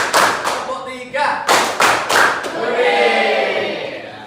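Children in a classroom performing a counted clapping routine, several loud unison claps in a rhythmic sequence, close and punchy, followed by voices chanting and murmuring.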